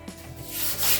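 Hand sanding of a bicycle part for repainting, a short rough rubbing scrape that grows louder and brighter toward the end, close and alone.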